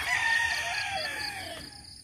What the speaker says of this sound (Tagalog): May fighting cock din dito.